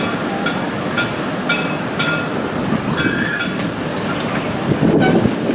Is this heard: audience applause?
no